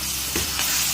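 Onions fry in a pan for mutton biryani, giving a brief, close, steady sizzle with a couple of stirring scrapes.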